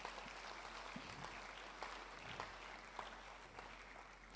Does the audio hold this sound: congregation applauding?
yes